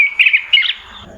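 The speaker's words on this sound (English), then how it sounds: "It's a North American robin. I made that the sound of my text notification sound" A North American robin song played as a phone text alert: a short burst of bright, clear chirps and warbling notes, loud and close, lasting about a second.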